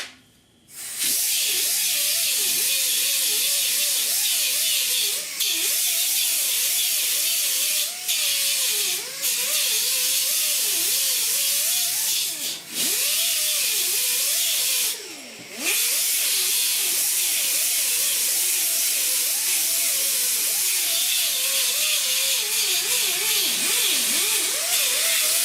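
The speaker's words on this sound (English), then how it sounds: "Let me grind that weld down." Angle grinder grinding down a weld on the rocker panel of a 1966 Ford F100, a steady loud hissing abrasive whine that runs continuously with a few brief dips.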